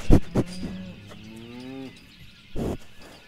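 Cattle mooing close by, with a long drawn-out low moo between short thumps and bursts of noise, no talking.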